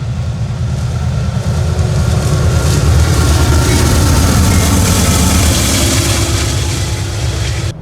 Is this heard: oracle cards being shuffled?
no